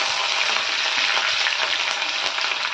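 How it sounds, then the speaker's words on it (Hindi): Green chillies drop into a pan of frying fennel and fenugreek seeds, giving a steady, close, even sizzle with faint stirring, with no talking. "इसमें डालते हैं थोड़ी सी हरी मिर्ची"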